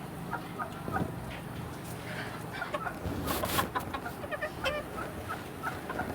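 Native country chickens, hens kept for sale around ten months old, cluck in a noisy yard, with repeated short calls over a continuous background of mixed farmyard noise.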